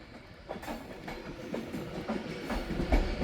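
A train arrives at Manchester Piccadilly on a service from London Euston. A steady rolling rumble with soft rhythmic wheel clicks grows slightly louder and heavier toward the end.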